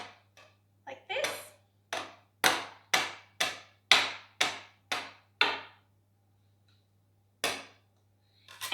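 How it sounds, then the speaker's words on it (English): A cake scraper cuts gnocchi dough on a work surface, making a quick, even run of about ten close, crisp chopping taps, then a pause and one more cut. "And then just using a cake scraper, just cut"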